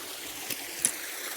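Steady broadband rush of a waterfall heard up close, constant and moderately loud, with a couple of brief clicks over it and no speech.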